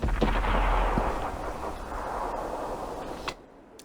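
Tank cannon shots from a Pershing in World of Tanks, with a heavy booming blast up front and a few sharper reports that fade into a rumbling tail before an abrupt cutoff.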